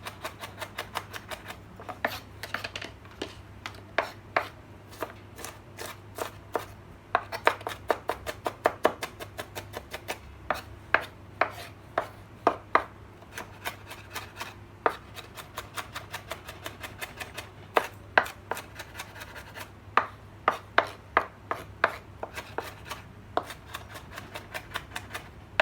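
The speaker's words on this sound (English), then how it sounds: "I think I'd rather hand chop this" Potato salad ingredients being hand chopped with a knife on a board, giving a long series of sharp, close taps in quick irregular bursts with short pauses over a faint steady hum.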